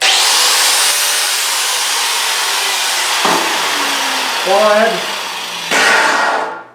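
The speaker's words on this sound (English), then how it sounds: "let's grind that down with a flap wheel a little bit" An angle grinder with a flap wheel grinds down a weld bead, a loud steady whine close by that rises in pitch toward the end and then dies away.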